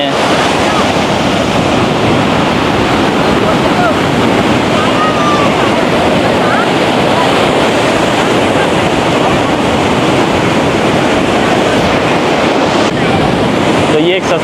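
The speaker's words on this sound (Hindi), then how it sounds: "आज समंदर जो है सही चढ़ा हुआ है जी" Rough surf rolls in continuously at Hawks Bay beach in Karachi, a loud, full wash of breaking sea waves with gusty wind buffeting the microphone throughout.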